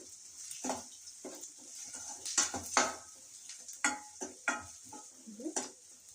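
Black pepper fried in oil gives a soft, fairly faint sizzle with intermittent stirring clicks and scrapes spaced through the stretch. No voices are heard.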